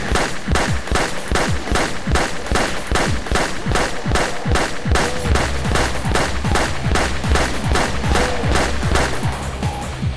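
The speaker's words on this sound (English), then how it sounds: "Gonna wait for him to close in before I start popping off rounds with the shotgun." Shotgun blasts in the Doom game, fired in a fast, relentless rhythm of sharp loud bangs repeating about twice a second for the whole stretch, with a low rumble joining partway through.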